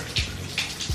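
Shower water running in a home bathroom, a steady close hiss of spray with brief splashy bursts where the stream hits a body or surface.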